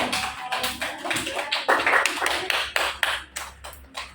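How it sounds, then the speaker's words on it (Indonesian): A small classroom group claps for Nisa's team, sparse, uneven individual claps in irregular bursts, near and moderately quiet, with a few louder hits in the middle. "beri tepuk tangan buat kelompoknya Nisa"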